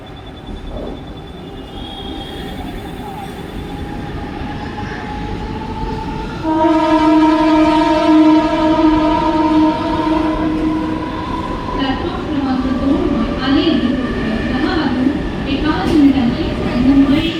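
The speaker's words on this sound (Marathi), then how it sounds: "शिवाजी महाराज टर्मिनस जाने वाली ही लोकल है।" A Mumbai suburban local train bound for Chhatrapati Shivaji Maharaj Terminus rumbles along, then its horn blares in a long sustained blast over steady rail noise, with voices talking faintly underneath.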